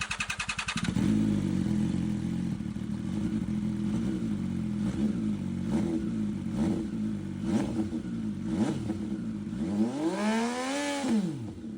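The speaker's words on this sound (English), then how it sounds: "Let's see how it sounds with and without the DB killer." A motorcycle with a loud SC Project exhaust and its DB killer fitted idles and then revs repeatedly, each blip rising and falling, with a final longer rev, loud and close with no talk.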